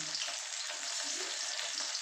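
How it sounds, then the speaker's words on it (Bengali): Small puti fish frying crisp in oil give a soft, even, continuous sizzle with light stirring, heard close but fairly quiet. "এগুলো ভেজে তুলে নিই তারপর মোরলা মাছটা রান্না করি দেখুন পুঁটি মাছগুলো কি সুন্দর ভাজা হয়েছে একদম করকরা"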